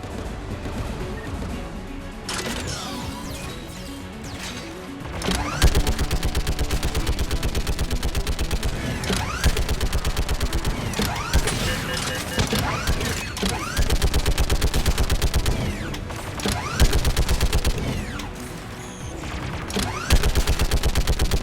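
Gunfire in the Mass Effect 3 video game, dense rapid automatic bursts and heavy shots that run loud and nearly continuous, with brief lulls and sharp impacts, over game ambience with no speech.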